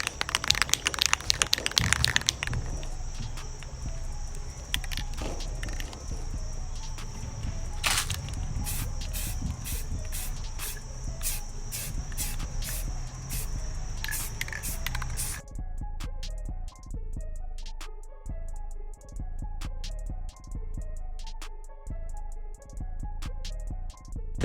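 Flat black aerosol paint sprayed onto car trim pieces and grills for a VW interior, a steady hiss with short bursts that stops partway through, giving way to a quieter room with faint ticking.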